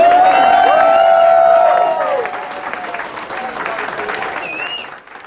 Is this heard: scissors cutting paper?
no